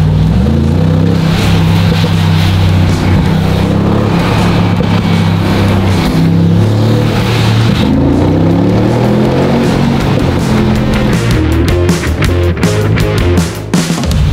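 A modified Jeep with the fenders removed idles and revs loudly up close, its deep, rumbling engine note steady and thick, while loose plastic flaps and rattles rapidly against it toward the end.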